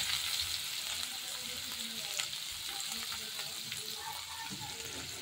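Chopped onion with mustard seeds frying in oil in a home kitchen, a continuous close sizzle with small crackles and occasional faint stirring clinks.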